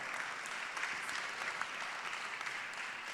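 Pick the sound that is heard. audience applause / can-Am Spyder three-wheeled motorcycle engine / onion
audience applause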